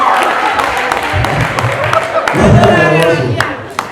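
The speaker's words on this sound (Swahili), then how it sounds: "tupigie karo makofi tafadhali" Audience applause at a Kikuyu comedy show, a dense wash of clapping that swells midway and then fades slightly, with a voice carrying over it.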